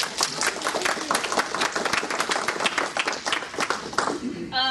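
A room of people applauds at a sci-fi author panel with dense, lively clapping that holds steady and then fades toward the end, with some voices mixed in.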